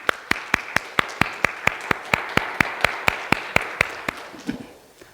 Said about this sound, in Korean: 우리 함께 서로를 위해서 우리 박수하시겠습니다.